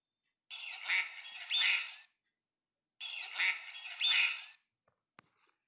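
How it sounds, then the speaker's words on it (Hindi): A duck swimming on water quacks in two separate bursts of rapid, nasal calls with a short silence between them. The sound is clear and alone. "बतख पानी में तैरते हुए क्वाक क्वाक करती है।"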